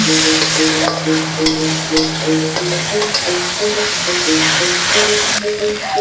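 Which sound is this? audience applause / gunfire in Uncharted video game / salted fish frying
salted fish frying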